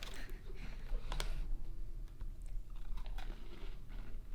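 Someone bites into a hefty s'mores cookie and chews it up close, with crunchy bites and moist chewing carrying steadily over a low background hum.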